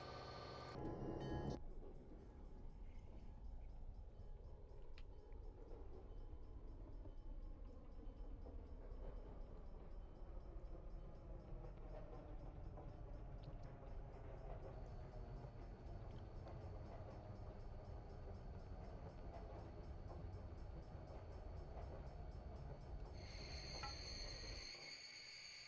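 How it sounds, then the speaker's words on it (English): A Burlington Northern freight train rolls past heading south, a long, steady, distant rumble and rattle of railcars with insects chirping over it in the evening air. "that Burlington Northern train is on the move, headed south."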